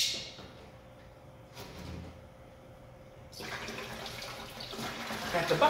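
Aquarium water drawn by siphon through a submerged, capped tube into a bucket: quiet gurgles at first, then a louder steady rushing stream that builds toward the end.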